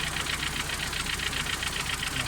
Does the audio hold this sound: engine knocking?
yes